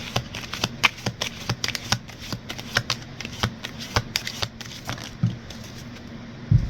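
A deck of tarot cards is shuffled by hand, a rapid run of crisp riffling clicks and snaps in uneven bursts, close and fairly loud, ending with a couple of soft taps as the cards settle.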